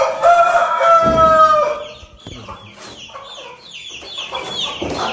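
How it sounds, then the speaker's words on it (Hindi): Rooster crowing loudly up close in a long drawn-out call, followed by a run of scattered clucks and squawks from the fowl nearby. "तो वो कितना ज़्यादा बोल रहा है इस मुर्गे को देखकर।"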